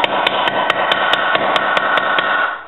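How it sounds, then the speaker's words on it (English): A ball peen hammer's peening end taps lightly and carefully around the outside edge of a rivet, a steady series of about ten sharp, evenly spaced metallic strikes close up. "I'm going to start with the peening end of a ball peen hammer"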